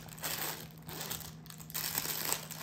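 Protective paper stuffed inside a slim brown natural-leather men's bag crinkles in close, continuous rustling bursts with no voices.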